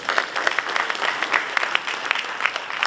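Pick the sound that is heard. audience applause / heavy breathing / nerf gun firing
audience applause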